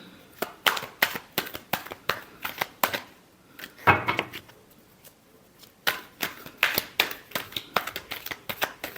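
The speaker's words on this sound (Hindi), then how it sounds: "Last shuffle." Tarot cards shuffled by hand in quick riffling bursts, each a crisp flurry of snapping card edges, repeated rhythmically with short pauses between, close and clear.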